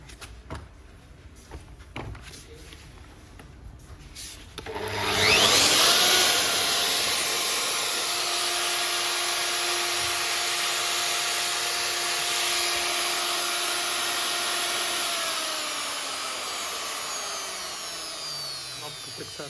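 A Makita RP2300FC electric router, built in 2021, spins up abruptly after some handling clatter and then runs at a loud, steady high-pitched whine before winding down near the end.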